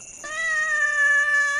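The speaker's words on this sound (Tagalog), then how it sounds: "Sakto, buti may pusa dito." A single loud, close cat meow, drawn out and steady in pitch for over a second, heard alone without speech.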